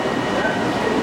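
A Javelin high-speed train arrives at Folkestone Central, heard from inside as a steady, loud rumble of wheels and carriage noise with no distinct clicks, a short continuous stretch.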